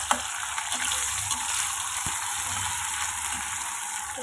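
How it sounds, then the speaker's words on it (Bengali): Chopped onion and green chili sizzle in hot oil in a pan, a steady bright frying hiss with a few soft stirring knocks and no voices. "এবারে দিয়ে দেবো কেটে রাখা পেঁয়াজ আর লঙ্কা।"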